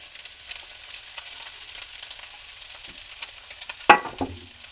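Rice and lightly fried vegetables sizzle softly in a pan, a faint continuous frying hiss, ending in a couple of sharp scraping stirs near the end.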